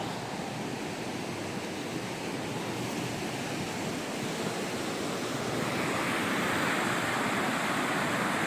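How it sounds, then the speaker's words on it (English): Broadband rushing water from a waterfall in the Canadian Rockies, steady and continuous like surf or wind, with no voices. "I do believe I see a waterfall."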